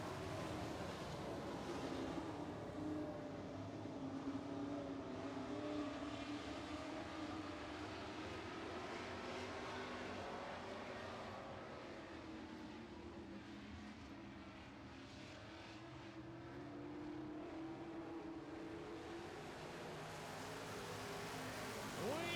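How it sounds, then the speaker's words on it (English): Super Truck class race trucks at a racetrack heat, a continuous engine roar from several trucks with rising and falling pitches as they pass, heard from a distance and fairly faint. "we're going racing in the Super Truck class"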